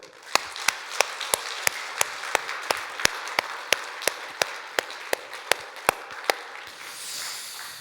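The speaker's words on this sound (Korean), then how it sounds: "우리 한번 힘차게 박수 한번 할까요?" A church congregation at a Sunday service claps together in a steady, even rhythm, sharp beats about three per second, continuing for several seconds before fading into room noise.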